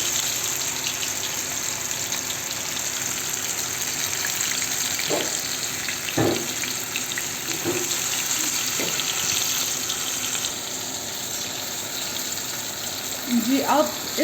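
Masala-coated fish fries in a pan over a low flame with a constant, even sizzle and a few soft bumps of handling. Near the end a brief burst of water-like bubbling rises.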